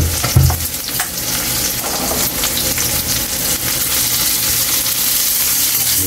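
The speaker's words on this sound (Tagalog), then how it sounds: "ilalagay na natin yung bawang natin. Ilagay na rin yung sibuyas natin." Garlic and onion frying in a hot pan for pork dinuguan, a loud steady close sizzle with stirring scrapes throughout and a brief thump near the start, no voices.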